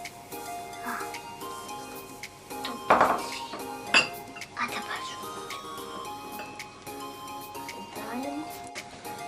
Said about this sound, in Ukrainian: І перемішуємо.